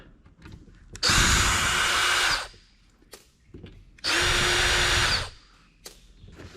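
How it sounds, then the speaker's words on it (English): Small bit power screwdriver whirring on screws in telecom networking gear, two sustained bursts of about a second each, close and loud, with quiet handling clicks between them. "Need my small bit screwdriver."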